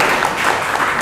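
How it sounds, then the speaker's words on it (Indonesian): An audience claps for a named participant at a business training session, a brief dense burst of applause filling the room. "Tepuk tangan untuk Dedi Ariwibowo"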